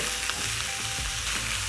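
Beef pieces frying in a hot pan with garlic and ginger, a constant dense sizzle and crackle with occasional stirring clinks, close and loud with no voices.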